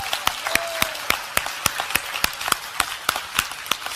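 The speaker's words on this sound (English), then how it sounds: "Let's give a good clap to Pastor Elizabeth." Church audience clapping in unison for Pastor Elizabeth, a steady rhythmic beat of sharp claps at about four per second, close and crisp, with no talk over it.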